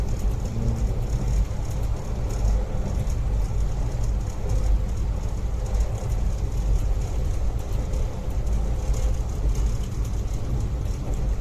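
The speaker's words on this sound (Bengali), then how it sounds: "ঝমঝম আওয়াজ ভাল লাগছে।" Continuous rolling roar and clatter inside a first-class coupe of the 13153 Gour Express on the Indian Rail route from Sealdah to Malda, steady and close, with no talking.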